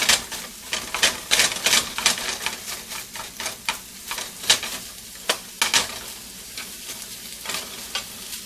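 Ground pork browning in a pan for chili, with steady close sizzling broken by repeated scraping and stirring strokes of a utensil throughout, no voices.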